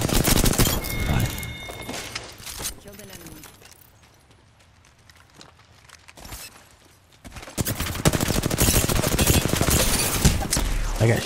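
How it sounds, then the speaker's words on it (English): Rapid bursts of gunfire in the battle royale game Apex Legends, loud and dense at the start, dropping to a quieter lull midway, then surging back into sustained heavy shooting with near, crackling shots. "they keep shooting at me"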